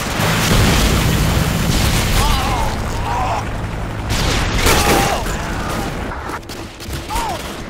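A Predator missile strike in Modern Warfare 2 team deathmatch on Scrapyard, heavy booming blasts and rumbling explosion noise filling the scene, with a voice and game sounds over the top.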